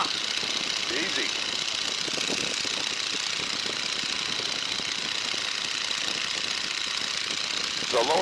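A Stearman biplane's engine, throttled back to 1,800 RPM in flight, drones in a steady, rough, rattling roar from start to finish, with voices talking over it.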